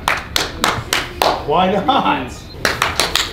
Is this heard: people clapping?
yes